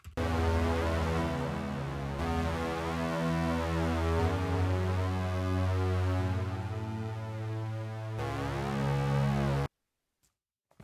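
Dense, busy synth pad from a CS80 plugin, uncompressed, with sustained layered chords that shift a few times before cutting off abruptly into silence.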